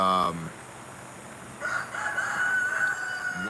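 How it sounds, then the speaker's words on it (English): A chorus of about seventeen roosters crowing at once, overlapping cock-a-doodle-doos at mid distance, some calls louder and nearer, layering into a sustained ragged din. "wow, 17 roosters at the same time."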